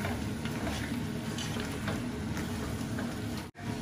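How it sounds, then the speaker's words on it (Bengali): Sylheti village-style akhni rice stirred while it cooks in a pot: a continuous close sizzle and bubbling with faint scraping, cut by a brief near-silent gap just before the end. "এখন ভালো করে নাড়াচাড়া করি"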